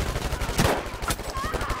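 Gunfire and battle noise from the video game PUBG heard through a HyperX Cloud Alpha S 7.1 surround headset: sharp bursts of shots and explosive thumps in quick irregular succession, fairly quiet overall.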